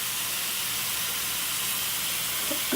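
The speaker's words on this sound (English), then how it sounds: "I already have the ground beef frying in the pan" Steady, broad hissing sizzle of seasoned ground beef frying in a hot pan, continuous and fairly close with no voices.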